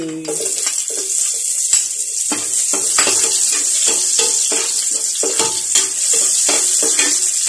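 Garlic and onion sautéing in a pan for tinola, a loud close sizzle with rapid repeated scraping stirs throughout, no speech.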